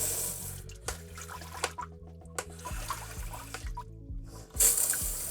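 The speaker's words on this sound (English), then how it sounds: "if I pull it all the way down, there's my rear wash." Water from a Saniwise bidet toilet seat's rear wash sprays and splashes steadily, with a few clicks and knocks over the flow and a brief louder surge near the end.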